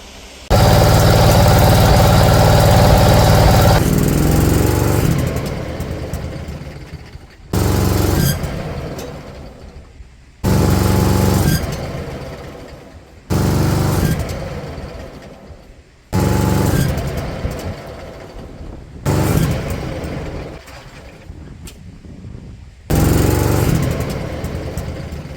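A riding lawn mower fitted with a Briggs & Stratton Intek V-twin engine runs loudly and steadily at first. It then roars in a series of repeated bursts broken by brief drops.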